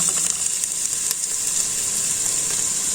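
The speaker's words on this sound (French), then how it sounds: "Et de temps à l'autre, je remue l'oignon pour que ça ne brûle pas." Onions fry in a pan with a steady, bright sizzle close up, broken by scraping clicks as they are stirred now and then; nobody speaks.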